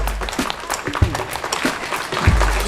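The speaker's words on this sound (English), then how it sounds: "Rounds of applause!" Scattered audience applause at a BABSCon 2018 convention panel, uneven clapping with a few louder bursts and low thumps and brief voices mixed in.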